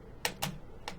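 Loud computer keyboard typing during parkour server gameplay, three sharp clacky keystrokes spaced irregularly over a faint background hum.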